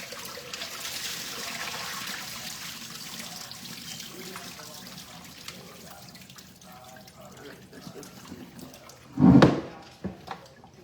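Tap water runs into a kitchen sink during dinner prep, a steady hissing stream with a louder gush and splash near the end, then a few clunks, as people talk faintly in the background.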